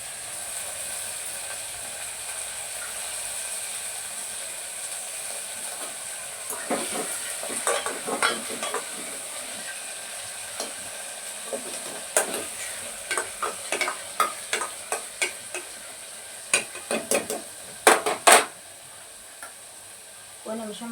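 Onions, green chilies and curry leaves frying in a tempering for buttermilk rasam, a steady close sizzle broken later by bursts of sharp scraping stirs against the pan, no talking.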